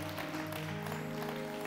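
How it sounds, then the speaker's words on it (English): A church congregation claps in praise, a brief burst of hand clapping over sustained musical tones in a worship hall. "Give God one more hand clap of praise as you take a seat."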